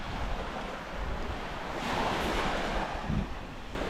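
Sea waves wash onto the shore at the Leven promenade where the Firth of Forth meets the North Sea, under constant buffeting wind on the microphone, a broad roar that swells slightly midway with no voices.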